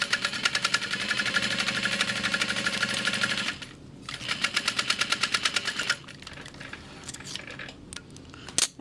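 A sewing machine stitches a 3/8-inch seam on a crossbody bag, running in a fast, even mechanical patter for several seconds, pausing briefly, then resuming in shorter bursts with a click at the end.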